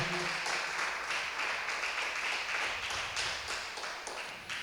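A church congregation at a Wednesday service claps together in a soft, even rhythm, a steady wash of hands that is fairly faint and continuous, with no voices over it.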